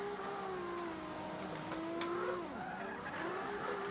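A Toyota Supra drifting in Forza 5 with steady tire squeal over a loud, continuous engine roar that sweeps up and down in pitch as the car slides.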